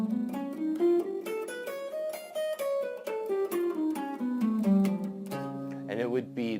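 A guitar plays the whole tone scale in a blues lesson, single notes climbing and then descending in even steps, ending on a sustained chord with a wavering bend, close and clear.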